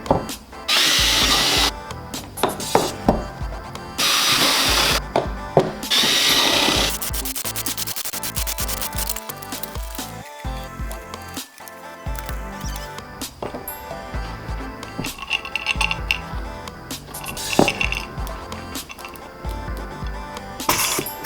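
A power drill runs in loud bursts while rivets are set into a plastic barrel patch covering a bus window, with clinks and rubbing of tools between the whirring passages, close and no talk.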